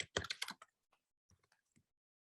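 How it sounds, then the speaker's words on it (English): A few quick keystrokes on a computer keyboard, a crisp burst of close clicks at the start, then sparse soft taps trailing off into quiet. "you would type in your footnote."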